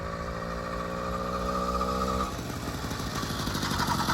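Motorcycle engine idling steadily after a new higher-compression cylinder head was fitted, a close, even mechanical chug whose pitch shifts about halfway through, with no voices over it.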